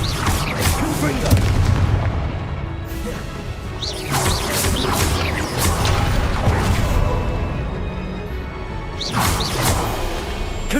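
Fiery magical explosions from Confringo blasting spells in the video game Hogwarts Legacy, several loud booming bursts landing near the start, middle and end over a continuous rumble of combat noise.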